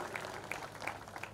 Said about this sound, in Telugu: అందరూ మరొకసారి గట్టిగా చప్పట్లతో